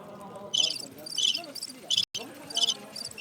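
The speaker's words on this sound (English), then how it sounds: "So one of these two is crickets" Bursts of cricket chirping from a sound effect repeat in a steady, pulsing rhythm, loud and close, over a faint low murmur.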